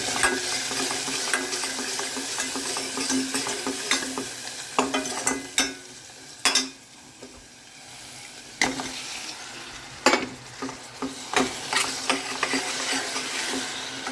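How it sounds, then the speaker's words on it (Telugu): A simple tomato curry cooking in a pan: a continuous sizzle with repeated sharp scrapes and knocks of a stirring spoon against the pan, close and fairly loud. "మన వంట సింపుల్ టమాటా కర్రీ చేస్తున్నాను"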